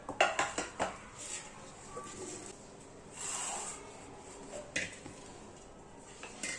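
Hot puran, a cooked sweet lentil and jaggery filling, scraped from a pan onto a plate, with a quick run of metal spoon and vessel clinks at the start and softer scraping after.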